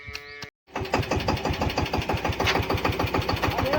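A tractor's diesel engine chugs to life after a short pause and settles into a rapid, steady knocking rhythm close by.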